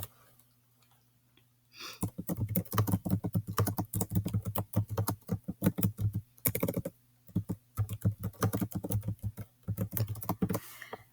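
Rapid typing on a computer keyboard while a question is entered into an online lesson, a steady run of close, crisp key clicks in quick bursts with brief pauses and no talking.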